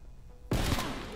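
A single loud, close gunshot from a Call of Duty Cold War video game, striking suddenly after a quiet lead-in, then a short fading tail.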